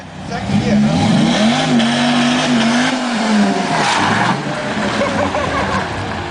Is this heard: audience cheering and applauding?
no